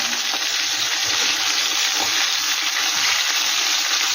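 Gurjali fish pieces fry in hot oil for a spicy fish curry, producing a loud, steady, close sizzle with crackles that continues without pause.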